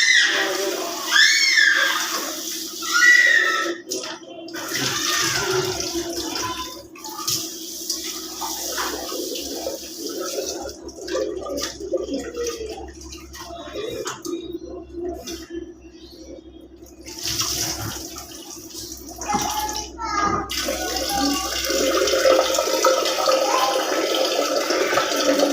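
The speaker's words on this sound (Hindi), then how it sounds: "तो अभी मैं धुल लेती हूँ चावल" Rice being washed in a bowl under running water from a kitchen tap, with continuous splashing and rinsing close to the microphone and a few brief pauses in the flow.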